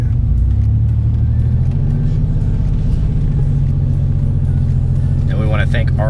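A 1991 Porsche 911 Carrera 4 (964) drives slowly to park, its engine a loud, close, steady low rumble throughout, with a voice briefly talking near the end.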